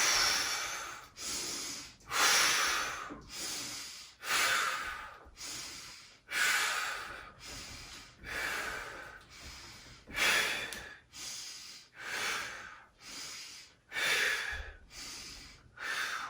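Heavy exercise breathing during a body-training session: a steady rhythm of loud, close inhales and forceful exhales, roughly one breath every second or so, repeated about a dozen times with no talking.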